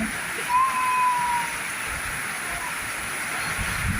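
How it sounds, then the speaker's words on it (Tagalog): Dense, steady heavy rain in Bulacan hisses and patters all around, with a brief high whistle-like tone early on; no voices. "Ang lakas ng ulan."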